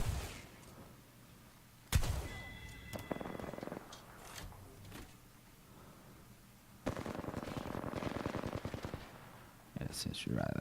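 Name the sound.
shotgun gunfire in video game Apex Legends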